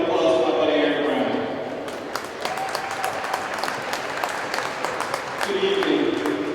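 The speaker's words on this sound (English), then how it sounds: "Please give a round of applause to my buddy Aaron Brown." A crowd at a women's basketball game claps for a guest honoree, with broad applause and scattered sharp individual claps under a murmur of voices, fading somewhat mid-way before swelling again.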